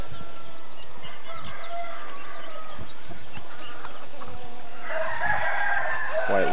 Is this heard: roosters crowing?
yes